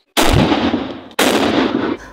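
Two loud, close gunshot sound effects, each a sharp blast with a long booming tail, the second following about a second after the first, with no voices.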